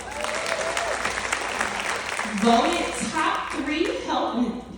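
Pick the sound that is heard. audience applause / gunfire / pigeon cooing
audience applause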